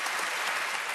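An audience at a Nick Vujicic event in Singapore applauds, a dense, steady burst of clapping filling the hall, loud and close.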